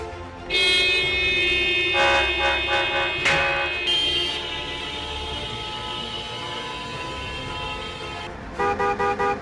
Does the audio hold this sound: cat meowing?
no